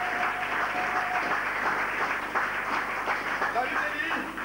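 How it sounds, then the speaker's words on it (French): A church congregation applauding during a sermon, producing a steady, diffuse wash of many hands clapping at moderate distance, sustained evenly for several seconds with no voice on top. "Nous acclamons très fort le Seigneur."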